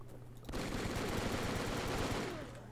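Rapid automatic gunfire from a weapon in the blocky shooter game Brickforce, a dense continuous burst lasting a couple of seconds, loud and close.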